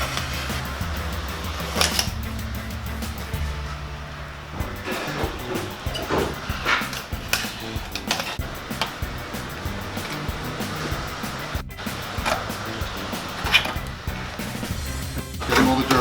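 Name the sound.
brushing dirt off a car's pinch weld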